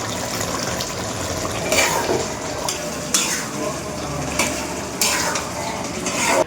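Kuicha fish curry frying and being stirred in a pan, a steady close sizzle broken by repeated scraping strokes of a spoon against the metal, with no talking.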